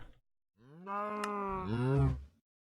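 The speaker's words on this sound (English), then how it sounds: "We can do the same thing for the cow. Record, wait for them to make a noise." An ambient cow moo from the Minecraft modpack Stoneblock 2 plays as one drawn-out bellow of about two seconds, with a rising pitch near the end, clear and alone after a tiny click.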